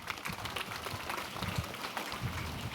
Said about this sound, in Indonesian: Tepuk tangan untuk beliau semua.